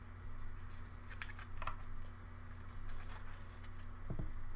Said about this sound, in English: So we're just going to do a quick cut.